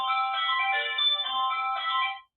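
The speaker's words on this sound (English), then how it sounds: "that's my alarm for 6 a.m." A phone alarm ringtone goes off, a steady melodic electronic tone sounding loud and close for about two seconds before cutting out, with no talking.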